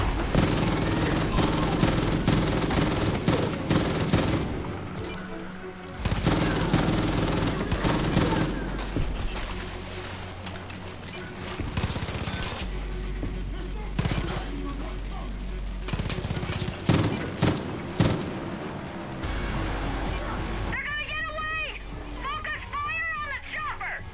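Dense, loud gunfire from the game Far Cry New Dawn, with repeated bursts and sustained automatic fire across the scene, someone talking over it at times and a brief break near the end.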